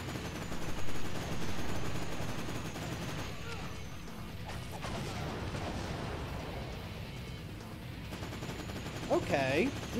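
Gunfire in The Terminator: Dawn of Fate video game, with sustained, dense shooting and crashing effects under a continuous wash of sound, and voices speaking over it near the end.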